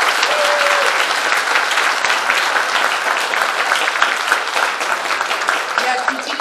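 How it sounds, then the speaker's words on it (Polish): An audience applauds a choir at a patriotic evening gathering in a Polish village hall, dense loud clapping sustained throughout, with a faint voice briefly audible under it. "Jeszcze raz brawa dla naszego zboru."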